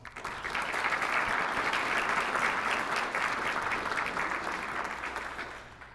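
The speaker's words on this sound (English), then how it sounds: "Please give them another round of applause." Sustained applause from a crowd at a military change of responsibility ceremony for an Army medical unit swells quickly and holds steady for several seconds before tapering slightly.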